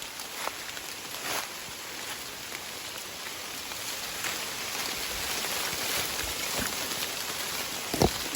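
Heavy rain falling in a forest, a dense steady patter on leaves and ground, with a few louder drop impacts and knocks standing out over the constant hiss.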